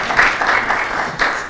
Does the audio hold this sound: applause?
yes